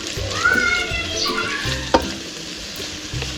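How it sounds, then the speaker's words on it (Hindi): Onions frying in oil for an achari vegetable macaroni dish give a loud close sizzle with a sharp clink or stir near the middle, while faint higher tones and brief voice-like sounds drift underneath. "प्याज को हम ऑयल में फ्राई कर लेंगे।"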